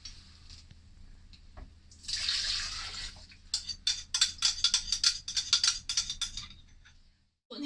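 Liquid pours into a blender while making a vanilla honey light cheesecake, a steady splashing burst followed by a run of short sloshing pulses and drips, close and fairly quiet, with no talking.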